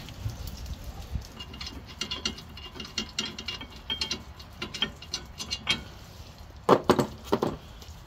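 A ratchet wrench loosens the two large rear bolts of the front brake caliper bracket on a Smart Fortwo during a brake and rotor job, giving close, irregular bursts of clicking with a louder flurry near the end.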